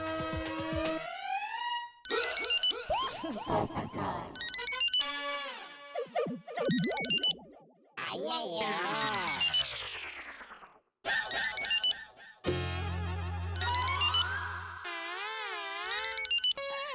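A series of different mobile phone ringtones and electronic ring melodies play one after another, loud and close, with brief gaps between tunes and no talking.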